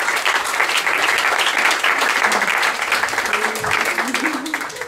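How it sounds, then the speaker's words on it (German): Audience applause at a live stand-up comedy show, dense, loud and sustained clapping filling the room, with a voice faintly heard underneath. "Applaus für dieses komische Pärchen"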